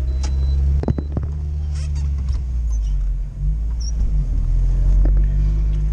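A UAZ off-road vehicle in two-wheel drive without low range engaged struggles for grip, its engine droning in a loud steady rumble as the wheels slip, with a few sharp knocks and no speech.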